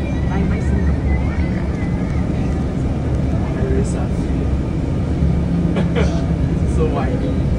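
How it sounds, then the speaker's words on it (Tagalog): Strong wind buffets a microphone outdoors in Johor Bahru, Malaysia, a constant loud rumbling roar that runs the whole time, with faint voices and distant traffic underneath. "So windy."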